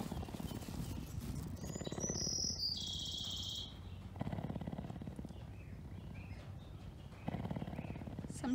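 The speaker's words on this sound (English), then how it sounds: "Sometimes it's just nice to listen to the birds sing" Birds sing outdoors with clear whistled chirps and a short run of trilling calls in the middle, set over a continuous hum of insects and rustling background noise.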